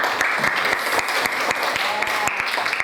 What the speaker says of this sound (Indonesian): Tepuk tangan dulu untuk Luna.